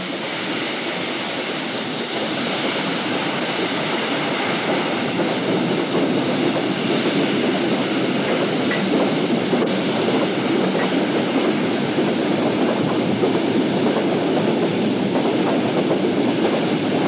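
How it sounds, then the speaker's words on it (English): A steam locomotive coasting downhill with a train of loaded trucks rumbles steadily past with a continuous heavy roar and faint rhythmic clanking of wagons, no voices. "Wimblebury coasts downhill with a train of loaded trucks."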